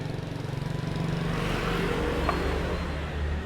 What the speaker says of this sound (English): and you got the chorus of mopeds.